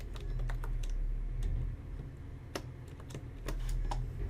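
Someone typing a password on a computer keyboard: quiet, irregular key clicks in short bursts over a steady low hum, with no voices.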